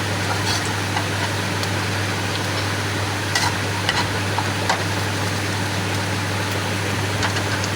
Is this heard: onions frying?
yes